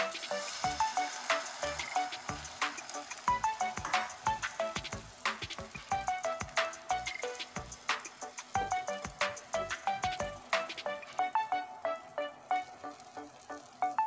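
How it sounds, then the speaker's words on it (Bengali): Egg batter sizzles steadily in hot oil on a tawa, a dense crackling fry with sharp spatter pops and faint clinks throughout, close up with no voices. "এবার এই ডিমের ঘোলটা ঢেলে দিচ্ছি তেলের উপরে।"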